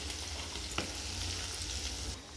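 Chicken pieces frying in oil in a pan for an avakai pickle, a steady close sizzle and crackle with a brief stir or scrape partway through.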